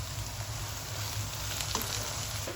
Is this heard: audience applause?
no